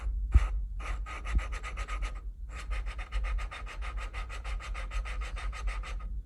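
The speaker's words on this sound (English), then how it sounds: "I'm just going to go through and grind these down, get them nice and smooth" Engine valves hand-lapped with grinding compound: a gritty rasping rub in quick back-and-forth strokes, a short burst, a pause, then a longer steady run of rhythmic scrubbing, close up with no talk.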